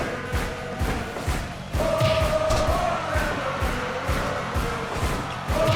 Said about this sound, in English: The crowd just absolutely deafening in favor of their hero, Orlando Nunez